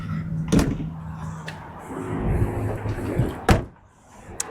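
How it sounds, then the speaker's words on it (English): Door of a 1968 Chevrolet Camaro RS with a fuel-injected 355 small-block V8 being handled: a couple of sharp, close latch clunks and thumps with rustling in between, ending in a firm shut. "Door closes very well."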